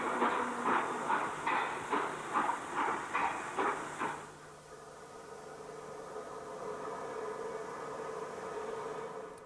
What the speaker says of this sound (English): One of Templecombe's pannier tanks, number 3720, shunts a Southern Region coach across the main lines from the up to the down sidings